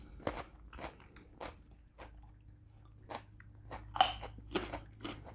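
Crisp, close crunches of raw vegetables like cucumber and carrot being bitten and chewed with a dill dip, a series of sharp separate bites and chewing crackles over near silence.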